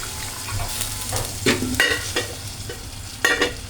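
Water poured onto chutney in a hot pan hits with a burst of loud sizzling, followed by spoon scraping and stirring in bursts.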